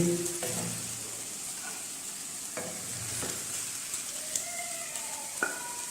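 Okra fries in oil for a beef bhindi dish, giving a continuous close sizzle and bubbling crackle. Occasional scraping and stirring clinks sound over it, with no talking.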